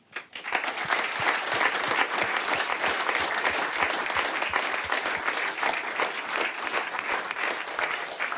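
A studio audience at a Swiss folk music broadcast from the Emmental claps steadily after a performance, the dense, even applause swelling quickly and holding for several seconds.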